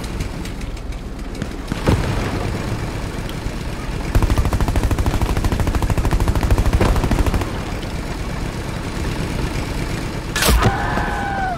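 Gunfire in Hell Let Loose, Carentan map: a long burst of rapid automatic fire dominates the middle, with single loud shots before and after it and steady engine-like rumble beneath, no voices.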